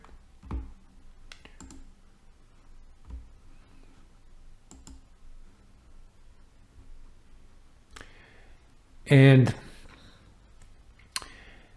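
Computer mouse clicks while working in Google Slides, a handful of sharp, sparse, close clicks at irregular intervals, with a brief voice partway through.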